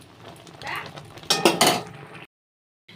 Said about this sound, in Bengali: ভাজা মশলাটা দিয়ে একটু নাড়াচাড়া করে আমি কিন্তু নামিয়ে নেব।